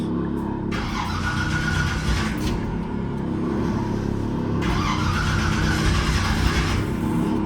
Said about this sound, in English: I haven't cranked this thing up in a while. Might be out of gas.